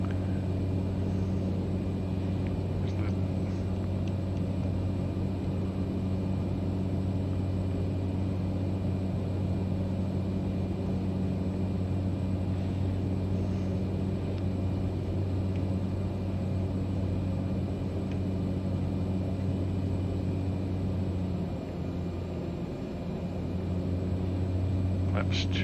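Engine drone of a light airplane flown in Microsoft Flight Simulator over Hawaii with flaps set, a steady continuous hum holding level throughout.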